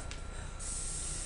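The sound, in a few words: hairspray being sprayed on hair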